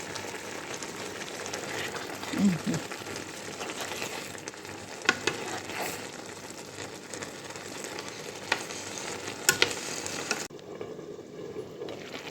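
Eggs frying in a pan on a home stove, a quiet continuous sizzle with a few sharp pops and clinks, cutting off abruptly near the end.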